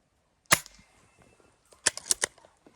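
A Hatsan 25 air rifle fires Shershen pellets: one sharp crack, then a quick cluster of several snapping shots close by, each brief and loud against near silence.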